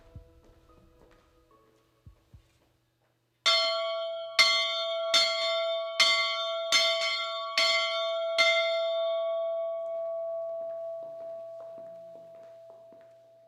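A large bell tolls six times at an even, slow pace, each deep clear strike ringing out over the last, then a long humming decay fades into quiet after a few faint knocks at the start.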